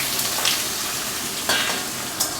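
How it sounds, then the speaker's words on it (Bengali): Potato pieces tossed into hot oil already holding bay leaves, dried red chillies and whole cumin, giving a steady close sizzle of frying with a few brief stirring scrapes and clatters. "এবারে আমি আলুগুলো দিয়ে দিচ্ছি।"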